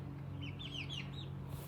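Chickens clucking close by, a run of short, rising and falling chirpy calls over a steady low hum, with no voices.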